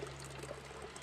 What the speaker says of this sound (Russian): А тут просто труба, с нее течет вода.